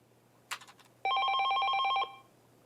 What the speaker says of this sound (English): the ringing phone broke his train of thought